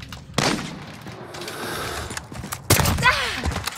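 Gunfire in the video game Call of Duty Modern Warfare: two loud clusters of shots, one early and one near the end, separated by a stretch of lower background game noise.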